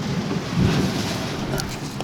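Strong wind buffets the microphone over a broad rushing roar of a stormy Black Sea in rain near Odesa, with brief splashy gusts near the end.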